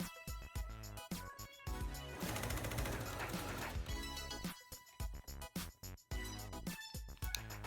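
A sewing machine runs along the edge of a two-layer fabric mask in rapid stitching bursts. Stop-start rhythm with steady motor hum and a longer continuous run in the middle, close and fairly quiet.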